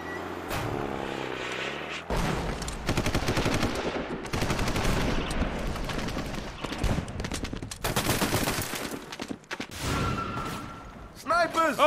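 Sniper gunfire and bursts of automatic fire in the 50 Cent: Blood on the Sand video game, loud sharp cracks and rapid volleys in clusters with brief gaps, with game voices speaking between shots.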